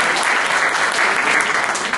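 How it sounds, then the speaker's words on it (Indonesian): Church congregation applauding during a Sunday service, a dense, steady wash of many hands clapping at close range, sustained and even for the full stretch with no voices on top. "kita tepuk tangan buat Tuhan dong"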